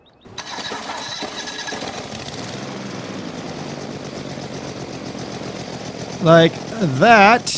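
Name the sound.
auger motor running in video game Farming Simulator 15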